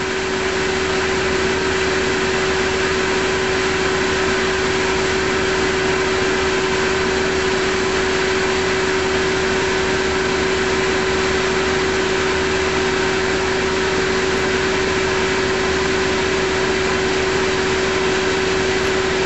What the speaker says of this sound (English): we finally went to the trouble of getting the bead blaster working